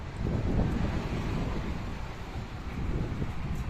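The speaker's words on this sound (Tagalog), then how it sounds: "malakas ang hangin" Strong, steady wind buffets the microphone outdoors, a dense roaring rush with gusty swells and no voices.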